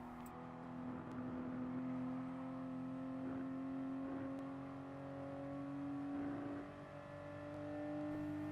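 A GR Supra race car in Gran Turismo Sport holds a steady high engine drone at full throttle around the Nürburgring, the pitch climbing gradually and swelling and easing slightly through the run, continuous with no talk.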